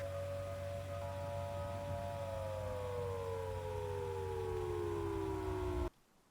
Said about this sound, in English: Yep, there's tornado sirens going off